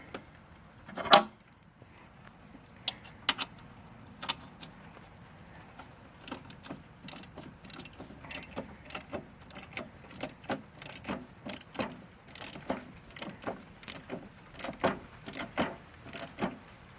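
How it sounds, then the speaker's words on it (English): A ratchet wrench works on a Bolens 524 snowblower during a friction disc replacement, giving a steady run of sharp, close clicks in quick bursts with no talking. "hit them with a little bit of ratchet action here"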